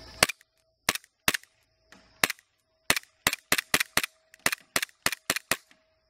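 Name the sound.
gas airsoft G-series pistol shooting at a target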